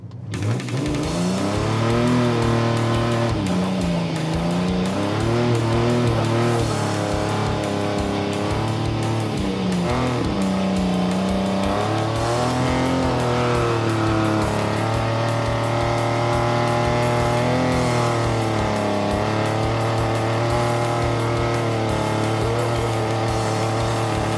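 A restored Ford Galaxie rally car is driven hard, its V8-style engine loud and close, revving up and down through repeated accelerations with tire squeal. No voices.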